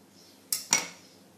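A dish set down onto a plate while making Tunisian chickpea-flour ghraiba cookies, two quick close clinks of crockery about a fifth of a second apart, with a short ring after, no talking.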